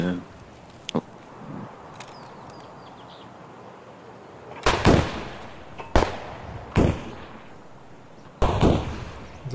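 Gunshots in Escape from Tarkov ring out as a few sharp, loud cracks spaced a second or two apart over a hissy outdoor backdrop, with a faint earlier pop; a voice speaks briefly.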